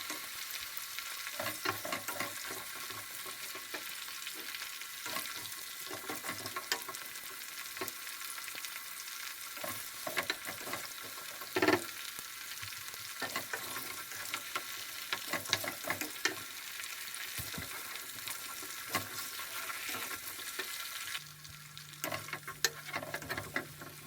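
Potatoes fry in a pan over a mid-high flame for a Pakistani aloo nihari curry, making a quiet, even sizzle and hiss with occasional soft stirring clicks and no voices.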